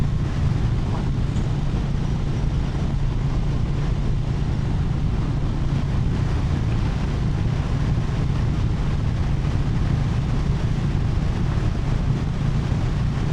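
Wind buffeting while riding a Moto Guzzi motorcycle across a bridge: loud constant roaring rumble heavy in the low end, steady and unbroken throughout, with no clear talk.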